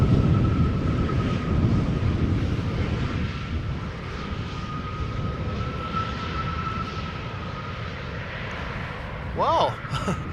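Airplanes departing on parallel runways at Schiphol Airport produce a steady distant engine rumble with a low roaring wash throughout and a thin whining tone held across most of the stretch.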